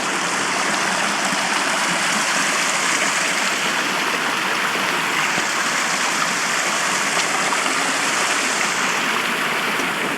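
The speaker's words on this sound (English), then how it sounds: "Ah, the Bronte waterfalls." The Brontë waterfalls on the Brontë Way on the moors pour without a break, a dense, loud rush of falling water filling the whole stretch with no voices over it.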